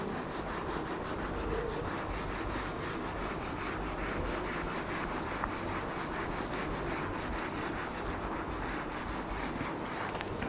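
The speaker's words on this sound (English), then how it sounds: "Now let me rub this question." A board is rubbed clean of a written physics question, a steady close rhythmic scrubbing and rubbing sound continuing without pause and with no talking.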